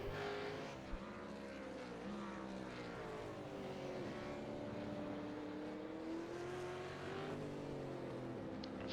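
Simulated supercar on a hot lap of Phillip Island in a racing video game, its engine droning steadily at high revs, pitch rising and easing through gear changes and corners, with no talk over it.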